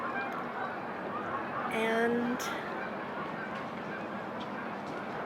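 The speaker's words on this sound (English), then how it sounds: "Quite a large flock of geese" A large flock of geese honks over a river at high tide, a burst of calls rising briefly above steady outdoor background noise, moderately distant, with a voice speaking nearby.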